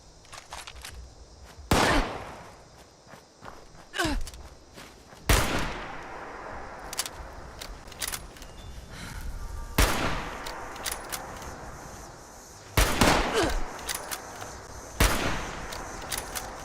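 Gunfire from assorted weapons in Fallout 76, a series of sharp, loud shots and short bursts spaced a few seconds apart, with quieter crackling and reports in between and no talking.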